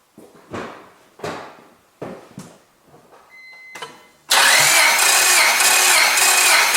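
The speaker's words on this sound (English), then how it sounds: "and then I start my engine." A car engine in a no-start cylinder test cranks in several separate labored bursts with a short pause, then catches and roars into a loud, steady, high-revving run close by.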